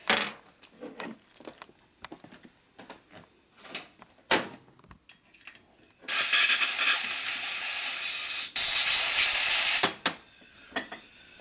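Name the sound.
blowing oil out of Harley camshaft part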